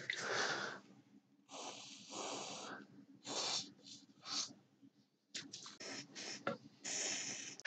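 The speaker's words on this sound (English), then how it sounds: "we'll give the pots and the switches a spray" Contact cleaner is sprayed onto the pots and switches of a NAD stereo amplifier in a series of short, close hissing bursts with brief pauses between them.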